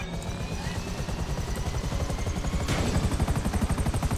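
Helicopter rotor thumping steadily throughout, close and loud, in the GTA 5 video game, with rapid gunfire-like clatter mixed in and the chopping growing heavier toward the end.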